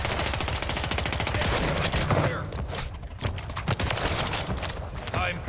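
Rapid bursts of automatic gunfire in a shooter game, loud and close with crackling repeated shots that thin out midway and then resume, with some voice chatter mixed underneath.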